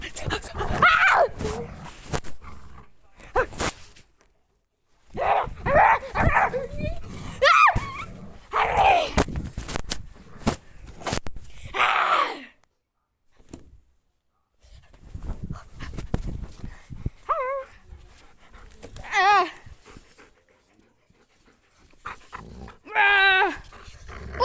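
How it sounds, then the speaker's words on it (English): A dog barks and growls in repeated bursts, close and fairly loud, mixed with people talking and sharp shouts, with a few quiet gaps between outbursts. "It's a dog."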